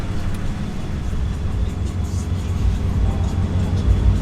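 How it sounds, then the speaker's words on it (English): A drift trike's small engine running on its first startup, giving a steady, loud low rumble with an uneven, chugging texture throughout, close by. "All right, first startup. Let's see if it runs."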